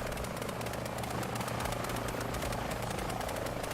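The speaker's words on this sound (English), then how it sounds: "Oh, you can hear the chopper now?" A helicopter in Microsoft Flight Simulator over Melbourne, with a loud, steady rotor thrum and turbine whine that holds constant throughout, no voices over it.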